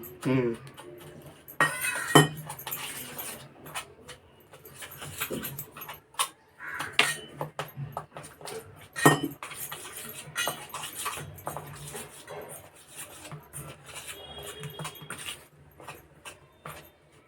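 Besan and semolina mixed with a spoon in a bowl, irregular scraping and clinking of metal against the bowl, close up, with someone talking over it at times.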